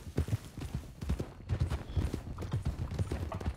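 Horse hooves clip-clopping during a ride in the video game RedM, a quick, uneven run of hoofbeats at close range, steady throughout and moderately loud.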